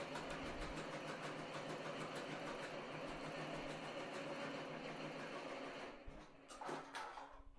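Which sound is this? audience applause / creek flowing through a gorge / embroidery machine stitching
embroidery machine stitching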